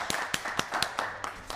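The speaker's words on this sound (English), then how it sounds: "just a round of applause for Councilman." A few people clap at a town council meeting, a sparse round of applause with distinct, separate hand claps at an uneven rhythm, close by and brief.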